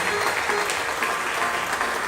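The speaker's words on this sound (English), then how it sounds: "I'd like to hear a big round of applause" Crowd at the Hammons Family Bluegrass Festival in Marlinton gives a big round of applause, a dense, continuous roar of clapping from many hands, steady and full for the whole stretch.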